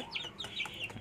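Young chicks being fed fish oil peep and cluck faintly, a few high, thin chirps in quick succession against a quiet background.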